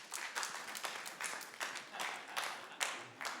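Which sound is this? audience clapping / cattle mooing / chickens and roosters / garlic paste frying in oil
audience clapping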